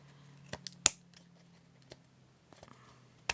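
Scissors trim a mixed-media junk journal tag in a quiet room, a few sharp close snips spaced irregularly, with faint background hum between cuts.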